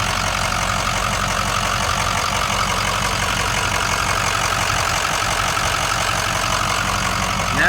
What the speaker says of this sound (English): And that's a bulletproof motor right there.